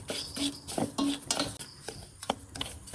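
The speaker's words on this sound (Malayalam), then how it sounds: "റവയൊന്ന് നമുക്കൊന്ന് വറുത്തെടുക്കണം" Semolina being dry-roasted in a pan over low flame, with a spoon scraping and clinking against the metal in quick, irregular strokes, close and fairly loud, and no talk.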